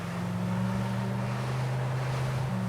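A MAR.CO R-Evolution 26 rigid inflatable boat planing at 13 knots and 2,600 RPM, its engine a steady low droning hum over rushing water and wind, continuous and close.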